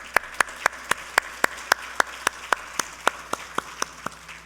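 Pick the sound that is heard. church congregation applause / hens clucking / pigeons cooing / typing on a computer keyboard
church congregation applause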